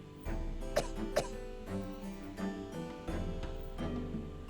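A character in The Great Ace Attorney Chronicles coughs repeatedly in short, harsh bursts, set over a steady game soundtrack with low tones running underneath.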